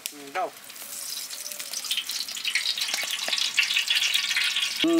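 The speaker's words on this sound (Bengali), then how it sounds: "সসপ্যান গরম আগে তেলটা দিয়ে দিলাম।" Oil heating in a hot saucepan before buffalo tongue curry is cooked, a crackling sizzle that builds steadily, with a few clinks of metal at the start and end.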